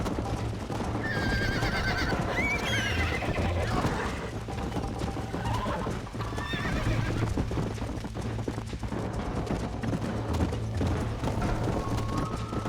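In a Red Dead Redemption race, a horse gallops with rapid, continuous hoofbeats and gives loud neighs, while other game sounds rattle and creak in the mix.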